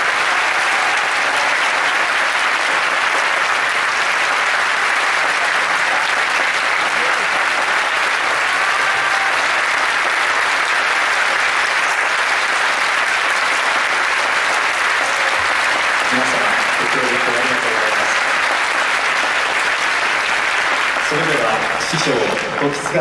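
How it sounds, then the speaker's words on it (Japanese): Loud, sustained audience applause fills a sumo retirement haircut ceremony hall, steady clapping throughout with some brief voices and shuffling near the end. "どうぞ皆様、精一杯の大きな拍手をいただきましょうか"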